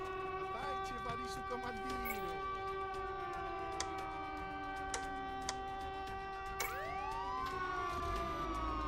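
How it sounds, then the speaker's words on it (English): A video game police car siren wails continuously with rising and falling tones, fairly close, with a few faint ticks and clicks scattered underneath. "Making me turn this loud-ass siren on."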